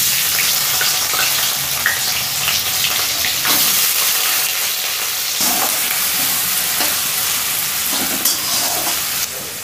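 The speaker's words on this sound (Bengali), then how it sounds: "পেঁয়াজটা একটু ভাজা হোক" Onions fry in a pan with sugar, cloves and cardamom for a yogurt chicken dish, a steady hissing sizzle broken by occasional scraping stirs, close and moderately loud with no talking.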